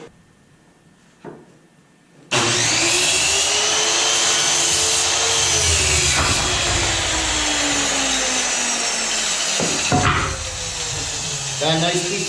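A small compound miter trim saw cuts through a piece of scrap wood: after a quiet start the motor kicks on with a loud, steady whine that holds for several seconds, then dips and briefly rises again as the blade spins down.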